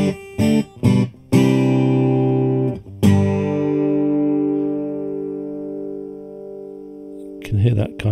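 An acoustic guitar, a Taylor 414, runs through a T-Rex Soulmate compressor pedal: several short plucked notes, then a strummed chord that rings and sustains evenly for seconds before fading, with brief speech at the end.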